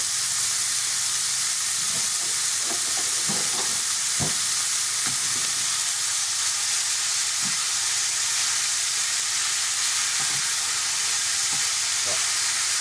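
Steady sizzling hiss of mince being stir-fried in a hot pan for lasagna, with scattered crackles and pops throughout and no talking.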